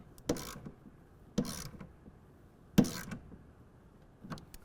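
A torque wrench tightens a T-slot rail bolt on a BAKFlip MX4 hard folding tonneau cover to 10 foot-pounds, giving three sharp, close clicks spaced about a second apart, with a faint fourth near the end and quiet between.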